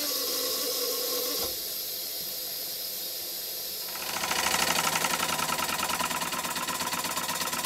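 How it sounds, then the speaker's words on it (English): A workshop gas burner's blow flame roars with a steady broadband hiss, quieter and thinner for the first seconds, then growing louder and fuller partway through and holding there. "That way the burner wouldn't be as fierce and the safety valve wouldn't blow off quite as vigorously."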